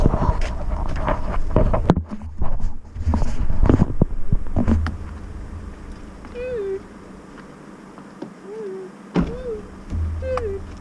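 A cat meows several times in short, rising calls, fairly close, after a stretch of clattering handling noise and wind buffeting the microphone.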